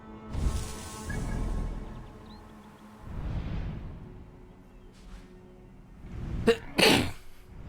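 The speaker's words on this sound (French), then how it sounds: "Atchoum." Sneezes in short bursts separated by quieter stretches, including a sharp, loud burst near the end that stands out against the gaps.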